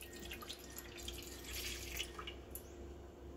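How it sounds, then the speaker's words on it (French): Milk poured into a deep mixing bowl, a quiet continuous liquid stream with light splashing and trickling, faint and close, no speech. "dans un saladier profond, je vais mettre le lait, 240 ml de lait"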